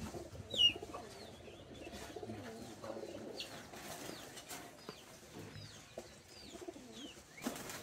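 Pigeon with a large jaw and long beak giving soft low coos, quiet and intermittent against outdoor background, with a few sharp chirps from other small birds and a brief flutter of wings.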